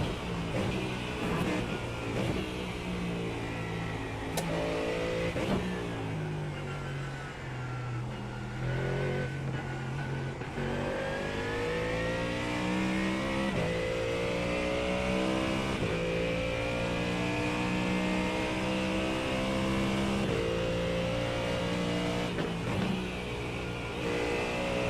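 A GT3 Mustang race car engine roars in iRacing at the Nurburgring endurance race, revving up and down through gear changes with rising and falling pitch, loud and continuous.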